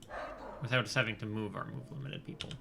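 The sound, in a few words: dog barking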